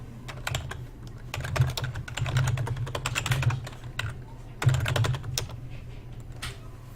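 Fingers typing a password on a computer keyboard, with rapid clusters of key clicks in bursts and short pauses, close and steady throughout.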